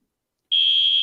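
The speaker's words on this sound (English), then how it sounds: "My fire alarm is getting tested right now" A fire alarm under test sounds after half a second of silence, a loud, steady, piercing single-pitch tone that holds unbroken to the end.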